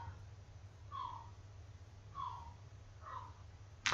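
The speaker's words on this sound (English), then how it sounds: "The birds you're hearing are seagulls" Seagulls call during breeding season while chicks are out: three short, faint, distant cries spaced a second or so apart over a steady low hum, ending with a brief sharp noise.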